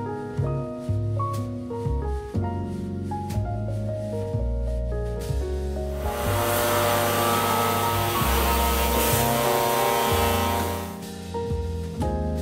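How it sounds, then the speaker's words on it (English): A vacuum cleaner sucks under a couch during weekly house cleaning, a steady whooshing roar that rises for about five seconds and then cuts off, partly buried under background music. "I'm just gonna quickly vacuum under here so that I don't have to move it a second time."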